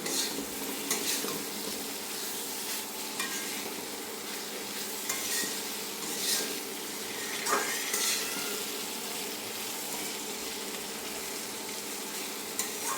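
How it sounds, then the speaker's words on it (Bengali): Fried prawns stirred in a pan of oily masala for a prawn bhuna, a steady soft sizzle with intermittent scraping of a spatula, close and continuous over several seconds, no voices. "এখন আমি এর মধ্যে দিয়ে দেব আমার ভেজে রাখা চিংড়ি মাছগুলো। এখন একটু নেড়ে চেড়ে দেব।"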